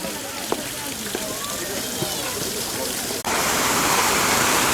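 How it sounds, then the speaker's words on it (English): A man-made waterfall at Anakeesta, a mountaintop garden park in Gatlinburg, Tennessee, gives a steady, close rushing splash. It swells suddenly louder partway through, with a few faint background sounds above the constant wash. "got a nice waterfall here"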